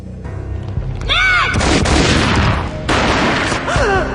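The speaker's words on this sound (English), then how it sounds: "A gunshot boomed and she fell down in slow motion." Gunshots in the Max Payne video game, two or three loud, booming blasts in close succession with ringing, whooshing tails, firing near and heavy in a slow-motion scene.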